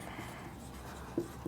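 Chalk or marker writing on a classroom board, a faint soft scratching stroke with a couple of short sharper taps near the end, quiet and close with no speech.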